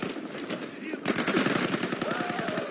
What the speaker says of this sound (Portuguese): É uma metralhadora inimiga!